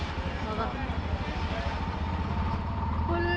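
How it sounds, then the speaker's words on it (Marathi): Motorcycle and car engines idle and rumble in a rainy village-road traffic jam, a low continuous drone close by, with a voice faintly audible over it. "traffic jam"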